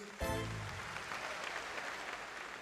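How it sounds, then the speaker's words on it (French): Audience in a comedy show hall breaks into applause after a sharp opening sound, then a steady, moderately distant patter of many hands clapping that holds evenly to the end. "Est-ce que vous pouvez vous applaudir?"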